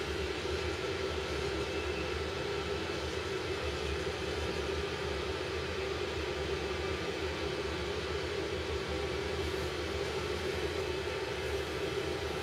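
A steady airplane engine drone fills the cabin during descent, a constant even roar holding unchanged throughout, with no talking.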